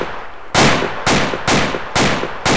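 Gunfire in a military video game mission: five loud, sharp shots fired about half a second apart, each with a short echoing tail, close by and with no talking.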